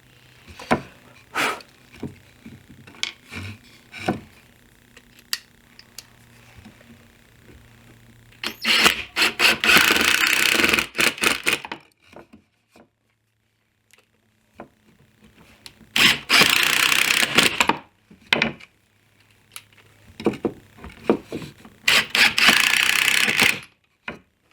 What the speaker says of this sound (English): I'll drill some pilot holes and drive about 3 or 4 screws